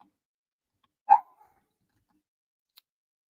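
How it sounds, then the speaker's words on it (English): A pet dog named Pablo barks once in the background of a quiet room, a single short, distant woof followed by silence and a faint later blip. "I don't know what Pablo is barking at, but excuse him in the background"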